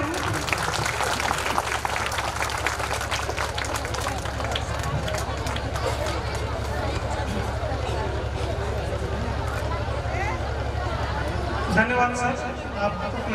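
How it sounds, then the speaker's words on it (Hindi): Audience at a ceremonial event applauds steadily for several seconds, a dense ongoing patter of clapping over a low hum, with a louder burst near the end and faint voices beneath. "तालियां बजाएंगे जरूर।"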